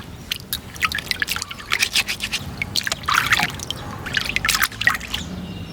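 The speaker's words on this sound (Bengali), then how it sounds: "তাল পাতাগুলো আমি এখন সুন্দরভাবে ধুয়ে নেবো।" Palm leaves are washed in water by hand, giving close, irregular splashes, drips and trickles with occasional scraping, fairly loud and with no talk.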